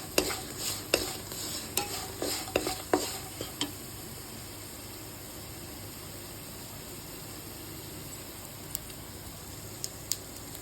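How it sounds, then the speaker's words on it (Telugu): A potato fry with tempering seeds is stirred in a pan: sharp scraping strokes and crackling pops come in a quick burst over the first few seconds, then a quiet, steady sizzle carries on with a few isolated clicks near the end. "ఇప్పుడు దీన్ని మొత్తం ఇలాగా మిక్స్ చేసుకుందాం"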